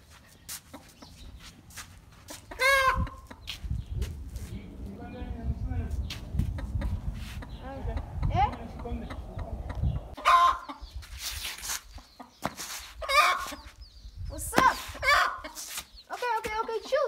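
A hen with small chicks clucks and squawks in agitated bursts nearby, with chick peeps mixed in, while a person talks and teases close by.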